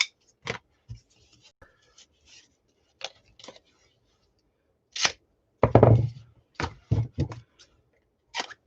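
Foam tape being cut in a few short, close snips and dull thunks, spaced irregularly with quiet gaps between them and no voices.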